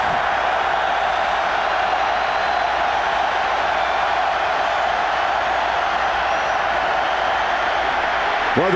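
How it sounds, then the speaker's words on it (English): Steady, dense roar from a football stadium crowd at an NC State Wolfpack home game against Florida State, noise rising on third down to disrupt the offense, continuous and loud with no break. "The crowd trying to help the defense."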